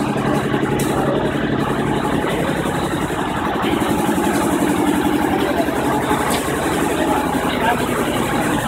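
A Massey Ferguson 7250 DI farm tractor idles steadily at close range, its diesel engine giving a continuous low rumble throughout, with people talking over it.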